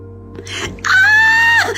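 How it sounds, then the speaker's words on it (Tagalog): Bloodcurdling scream from inside a house, a brief breathy cry rising into a loud, sustained high-pitched shriek lasting about a second, close and alone. "Biglang pumailang lang sa ere ang isang makapanindig balahibong hiyaw mula sa loob ng bahay."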